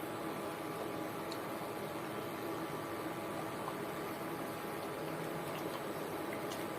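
A mashed potato and fish mixture for Bengali aloo ghati frying in a pan: a steady, even sizzle and hiss that runs unbroken and close at moderate volume, with faint ticks from stirring.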